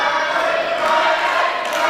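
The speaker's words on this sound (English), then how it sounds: "Crowd calling for Arron Warnes." Wrestling crowd chanting for Arron Warnes at a Money in the Bank event, a dense, steady roar of many voices filling the arena without a break, loud and continuous.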